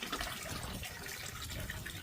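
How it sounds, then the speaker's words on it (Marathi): Very cold water is poured over hands at a purification basin at a shrine in Nikko, Japan, a soft, steady trickle and splash that is faint and close, with no voices. "हातावर पाणी घेऊन आतमध्ये जाऊया."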